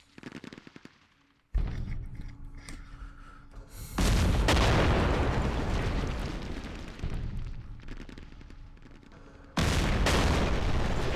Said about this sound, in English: The gunfire from shore is deadly.